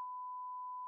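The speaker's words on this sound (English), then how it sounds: "Let's beep it out." A censor bleep covers a spoken word: one steady, pure electronic tone held for about a second at even loudness, starting and stopping abruptly.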